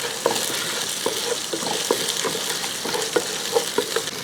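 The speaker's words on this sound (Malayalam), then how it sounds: "ആ കറിവേപ്പില കൂടി ഇട്ടതിന് ശേഷം ഒന്ന് ഇളക്കി കൊടുക്കുക" Ginger, green chili and curry leaves fry in a pan, a steady sizzle broken by a dozen or so scraping stirs at an uneven pace, close and moderately loud with no voices.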